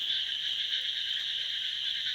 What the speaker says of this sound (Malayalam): മാക്രികളുടെ കരച്ചിൽ കേട്ടാ, നിറച്ച് മാക്രി ഉണ്ട് ഇവിടെ. തവള തവള.